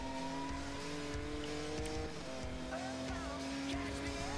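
A car engine hums steadily at high speed with a constant tonal drone in Need for Speed Most Wanted (2012), layered with faint tire noise and soft rhythmic thumps under the game music, with no clear talking.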